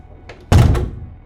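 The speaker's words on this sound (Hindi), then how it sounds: "मैंने दरवाजे पर जोर का धक्का दिया।" A door is shoved hard, giving one heavy wooden thud with a brief rattle, preceded by a faint scuffing sound.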